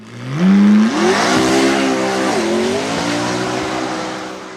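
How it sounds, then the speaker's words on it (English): A McLaren P1 GTR racing car, its engine revving up loudly and climbing in pitch, then holding a steady high roar with slight tire squeal, close and dominant. "McLaren P1 GTR."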